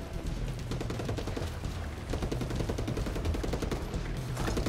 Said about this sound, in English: who was that shooting at me on the left?